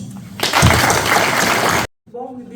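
Audience applause at a tribute ceremony, a dense burst of clapping filling most of the moment before cutting off abruptly, followed by a voice speaking.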